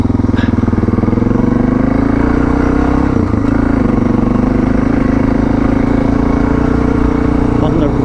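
Suzuki DR650 with new suspension rides a mountain forest dirt road, its engine droning loud and steady throughout with clattering over the rough track and someone talking over it.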